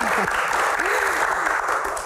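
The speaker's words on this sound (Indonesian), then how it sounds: "tepuk tangan dong" A short burst of applause from a crowd, dense clapping throughout with voices calling out over it.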